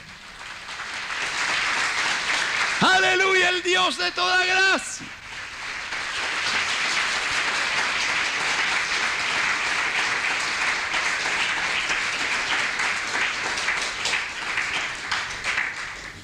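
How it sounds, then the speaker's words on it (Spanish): A church congregation claps during a Spanish-language sermon. A loud sung or shouted voice rises over the clapping for a couple of seconds, then the sustained applause carries on alone. "Otro aplauso al que vive"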